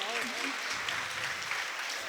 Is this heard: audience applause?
yes